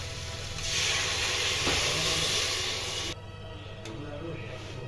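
A sudden loud hiss of tamarind water poured into a hot pan for okra sambar, lasting a few seconds before cutting off sharply and leaving a quieter low rumble.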